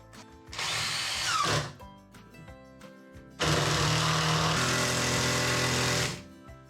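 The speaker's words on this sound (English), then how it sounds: "we're going to put a couple of screws in this now to try to hold it in place" A power drill drives screws into dry 2x4 wood in two steady whirring bursts, a short one and then a longer one, with a quiet pause between them and no talk.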